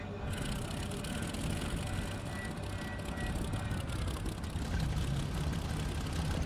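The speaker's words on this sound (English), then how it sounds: "So right now I'm starting the engine." A fighter plane's engine in the IL-2 Battle of Stalingrad combat flight sim turns over and runs, a steady, loud low rumble that holds throughout without pause.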